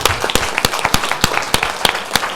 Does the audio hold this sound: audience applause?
yes